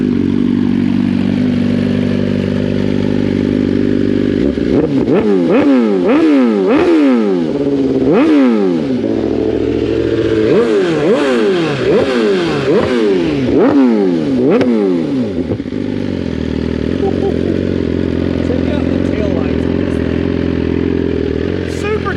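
A Suzuki GSX-R 1000 sport bike, warmed up and about to go on a dyno, revs loudly and close by in a string of sharp throttle blips that rise and fall, with a steady idle before and after.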